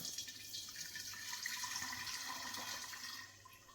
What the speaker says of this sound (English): I'm going to take a big jar and a sieve, and I'm going to pour 3/4 of my Gingerbug into this jar